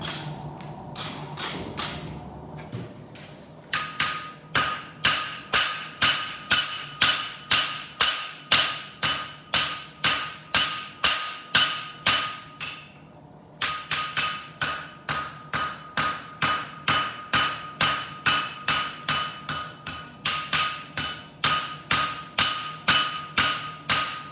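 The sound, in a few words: hammering hot metal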